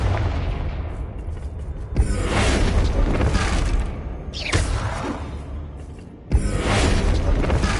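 Repeated Confringo blasting curse explosions in Hogwarts Legacy, three loud booming impacts a couple of seconds apart, each with a sharp onset and a whooshing, rumbling tail.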